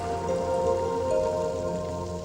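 Steady rain pours down outdoors where children play in a wet courtyard, a continuous, even hiss of falling water with no voices over it.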